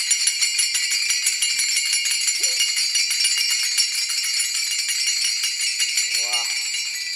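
Taal hand cymbals at a kirtan jingle in a constant bright metallic shimmer, loud and near, with a couple of brief voices slipping through underneath.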